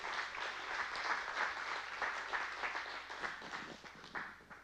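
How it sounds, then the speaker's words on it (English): Sustained audience applause in a church-style gathering, many hands clapping together at a moderate distance, steady and continuous throughout. "would you give a round of applause for Christian and Dayton?"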